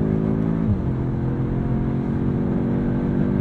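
A 2022 Audi S3 with a seven-speed dual-clutch gearbox downshifts, its engine note shifting quickly partway through, then droning on loud and continuous inside the cabin.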